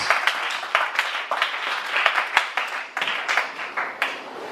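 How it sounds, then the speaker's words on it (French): A crowd claps and cheers together, a dense run of applause that rises and falls in waves. "Est-ce qu'on peut bénir nos bien-aimés par des acclamations, en les encourageant"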